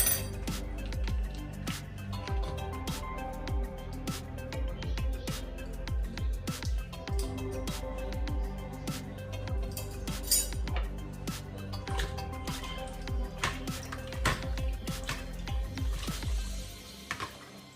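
Crushed tablets are stirred into muscadine and scuppernong wine must in a container, giving a long run of light clinks, taps and wet squishy sloshes at an uneven rhythm, fairly quiet and close, with no speech.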